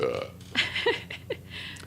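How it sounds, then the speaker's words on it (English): A short, throaty beer burp rises amid casual background chatter, close to the listener, brief and low. "Beer burp."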